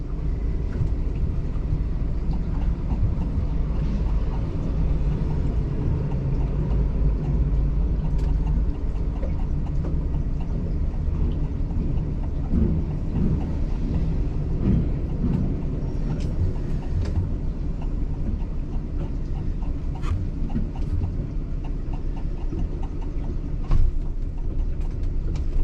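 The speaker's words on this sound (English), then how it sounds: "And the entire train is one locomotive." A steady low rumble comes from a stopped train made up of a single locomotive, a continuous idling drone with faint intermittent clicks and hiss, moderately close and without talk.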